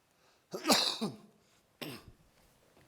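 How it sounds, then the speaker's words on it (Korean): Two coughing bursts from a speaker at a daytime church evangelistic meeting, the first a harsh double cough and the second a shorter one, close and fairly loud against a quiet background. "기침이 안 나왔는데 갑자기 나오네요."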